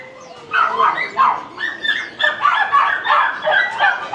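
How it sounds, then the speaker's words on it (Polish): Several dogs bark and yap in quick, overlapping bursts at a Chinese animal market, sharp high yips repeating close by with no pause between them. "Kiedy wszędzie dookoła ujadają psy"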